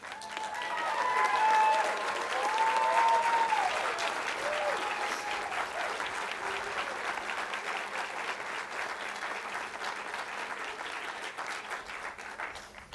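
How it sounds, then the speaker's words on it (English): Graduates at a 2024 College of Idaho commencement stand and give a sustained round of applause, a dense wash of clapping from a large crowd that peaks early and holds steady for the full length, with faint cheers mixed in. "So graduates, please stand and give a round of applause for those people that helped you get to graduation."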